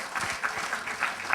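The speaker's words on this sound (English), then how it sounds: "So the clap is to finish the panel discussion." Audience clapping at the close of a panel discussion at a PR conference, a steady wash of applause with periodic louder bursts, moderately near, no one speaking over it.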